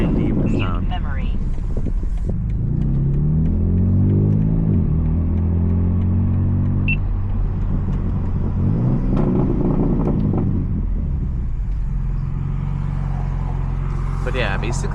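Deep, steady inline-six exhaust drone from a BMW G80 M3 LCI with secondary cat and resonator delete, heard from inside the car at low RPM, a continuous low rumble with wind noise and someone talking over it.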